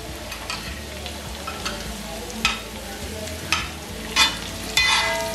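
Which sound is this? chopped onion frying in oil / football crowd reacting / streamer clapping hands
chopped onion frying in oil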